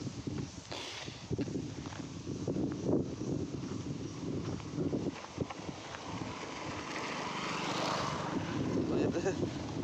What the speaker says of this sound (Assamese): এখন বাইক।